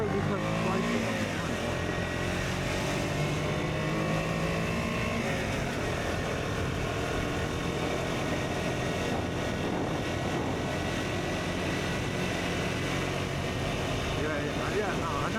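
A KTM Duke 125 motorcycle engine drones steadily on a scenic road, loud and continuous with wind noise, while people talk over it.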